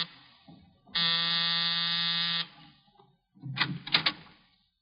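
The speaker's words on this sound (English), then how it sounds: "I was punching the buzzer to Saxon's apartment." An apartment door buzzer is pressed once, giving a loud, steady electric buzz of about a second and a half, followed by clicks and knocking sounds.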